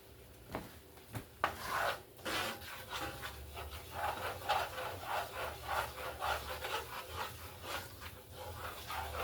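Brown gravy being stirred in a pan, a steady scraping and rubbing of the utensil against the pan bottom that repeats in quick rhythmic strokes, close and moderately loud with no talking.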